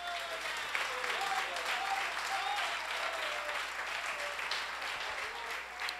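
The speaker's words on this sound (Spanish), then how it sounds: "Denle un aplauso" A Sunday evening church congregation in Barquisimeto, Venezuela applauds, a steady, dense patter of many hands filling the room, with a voice speaking over the clapping.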